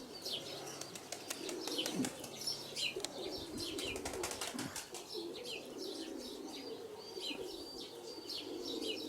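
Pigeons flap their wings in repeated bursts of clattering, close and fairly loud, with soft cooing and chirps mixed in; no talking.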